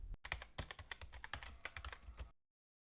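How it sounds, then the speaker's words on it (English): Rapid keyboard typing, a quick irregular run of crisp key clicks up close, stopping abruptly into silence. "You open a calculator, you start typing."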